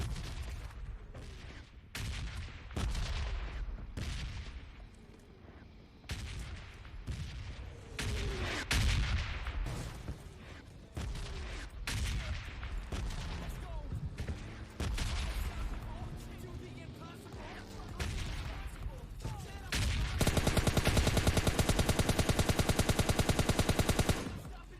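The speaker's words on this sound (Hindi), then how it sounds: "मुझे जंकयार्ड की तरफ से गोली चलने की आवाज़ आ जाती है" Repeated gunfire in the mobile shooter PUBG Mobile Lite, with single shots and rapid bursts throughout and a dense, loud stretch of automatic fire near the end.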